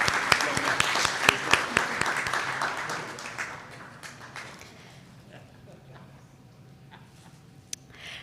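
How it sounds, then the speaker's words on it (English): An audience at a cybersecurity forum claps loudly, with sharp individual claps standing out at first before the applause thins and fades to scattered claps and murmuring. "Can we get another round of applause for that phenomenal, heavy-hitting insight?"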